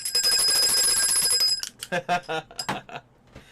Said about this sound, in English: I'm gonna ring the bell for me.